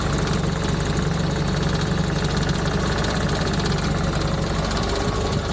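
A Renault R8 prototype running modern ignition idles just over 700 rpm, a steady loud engine drone with a fine rhythmic pulse and vibration, continuous with no voices.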